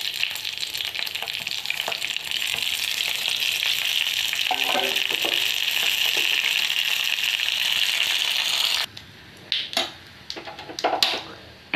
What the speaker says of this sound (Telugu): పోపు సామాన్లు అన్నీ వేసుకుంటున్నానండి